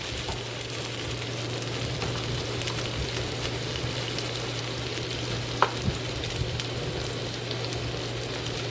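Potatoes fry with turmeric and salt in a pan for a Bengali-style potato curry, a steady close sizzle running throughout with soft scrapes and a few clicks as a spatula stirs them.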